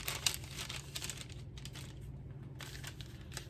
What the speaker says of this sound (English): I'm just going to lay that parchment paper down on top of it.